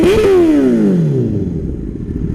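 Honda CBR1000RR motorcycle with a custom Hyperflow exhaust, a loud close rev that peaks sharply and then drops away as the engine winds back down.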